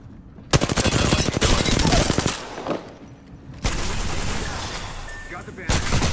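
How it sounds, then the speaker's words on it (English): Sustained automatic gunfire from Apex Legends, loud and close, in long rattling bursts separated by brief lulls, with several separate volleys across the stretch. "Opening fire."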